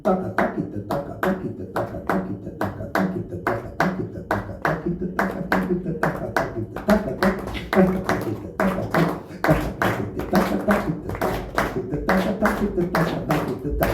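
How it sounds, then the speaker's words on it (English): Sharp hand claps repeat in a steady, even pulse, close and loud, about two to three per second, with a soft tonal backing underneath from a guitar clinic setting. "So we have 2 claps"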